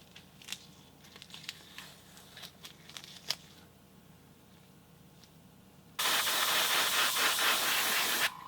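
An airbrush misting Quicksilver chrome paint onto a 1:18 scale 1950 Merc custom woody model car gives a sudden loud, steady close hiss that starts partway through, after a stretch of small clicks and handling noises.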